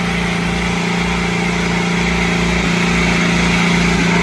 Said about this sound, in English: That idle RPM, that's mind-boggling.